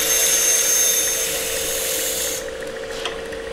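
A knife blade is drawn steadily across a knife sharpener, giving a continuous rasping, grinding hiss that holds for a couple of seconds and then drops to a quieter scrape with one faint tap.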